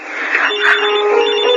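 A cellphone rings with an incoming call, a loud electronic ringtone with a steady tonal chirp pattern close to the listener, with no talking over it.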